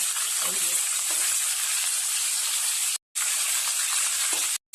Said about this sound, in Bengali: এইভাবে সবগুলো মাছ আমি ভেজে নেব।